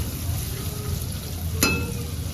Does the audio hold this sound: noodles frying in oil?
yes